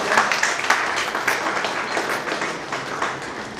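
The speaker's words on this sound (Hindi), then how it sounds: "शेर बहादुर जी के लिए बहुत बहुत एक बार ताली बजा दीजिए" Audience applause at a Hindi literary academy gathering, a dense steady patter of many hands clapping close by for the full stretch, with no voices over it.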